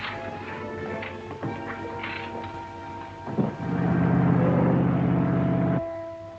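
In a 1939 Sherlock Holmes film soundtrack, a boat engine's low, even droning throb starts up, holds for about two seconds and then cuts off, with sustained tones around it.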